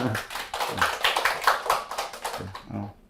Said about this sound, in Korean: 우선 그 박수 한번 칩시다